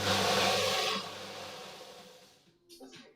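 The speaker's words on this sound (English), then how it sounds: "just got to dremel this" A Dremel rotary tool grinds a cosplay crafting piece in a short, harsh, raspy burst that quickly spins down and fades, followed by a faint clatter.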